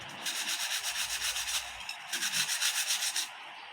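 Close, steady scrubbing of baked-on cooking grease from the edges of a household gas stove, a brisk rhythmic rasping rub in two bursts separated by a short pause, with no talk.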